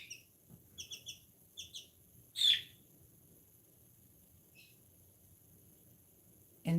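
New Hampshire Red chickens give a few faint high chirps in quick pairs and one louder squawk, separated by quiet stretches in a calm outdoor setting.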